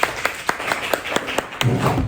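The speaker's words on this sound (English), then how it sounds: "everybody, clap your hands" Students in a middle school classroom clap their hands together in a quick, evenly spaced series of about eight sharp claps, close and fairly loud, ending in a brief murmur of voices.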